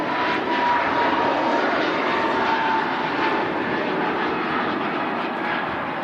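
A TUI Boeing 767 airliner's engines at Manchester Airport produce a steady, loud, broad roar that holds evenly throughout, with no voices over it.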